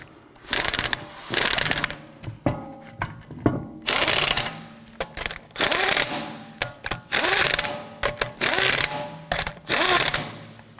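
Rear sway bar link nuts on a Toyota Camry being snugged down with a ratchet, loud close bursts of rapid clicking that come in repeated runs with short pauses between them.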